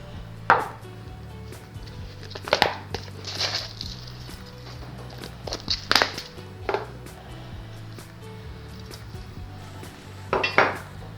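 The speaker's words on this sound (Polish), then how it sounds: "i wcieramy gałkę" A whole nutmeg is hand-grated in a home kitchen while making a chicken pasta bake in cheese sauce: sporadic short rasping scrapes over a steady low hum, with light utensil clinks.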